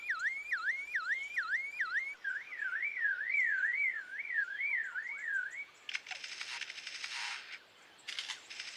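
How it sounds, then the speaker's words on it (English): A bird closes a run of car-alarm-like warbling with a few short, clicky mechanical bursts copying a camera shutter. The sounds are faint and isolated, with no voices. "A camera shutter."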